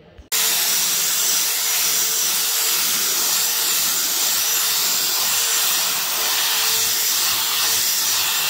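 A steam cleaner works over the upholstery of a wingback chair in an apartment lobby, giving a loud, steady hiss that starts abruptly and runs continuously without a break, with no talking.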